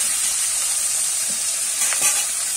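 Silver carp fish roe frying in hot oil in a home kitchen pan, giving a steady close sizzle throughout with a few brief crackles and spits.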